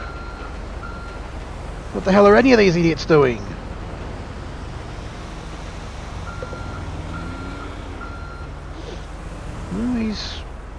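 Truck reverse beeping while it turns around in heavy traffic in GTA 5, an intermittent pulsing beep under wind noise, with a voice talking over it.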